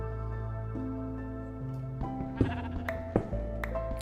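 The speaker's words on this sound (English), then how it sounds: "this is apparently a sheep death pit" Several overlapping sheep bleats in a video game, loud and close, drawn-out wavering calls stacking over each other with a couple of sharper thumps near the end.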